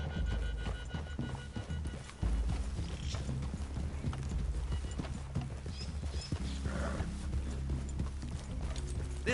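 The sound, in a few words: horses walking in the video game Red Dead Redemption 2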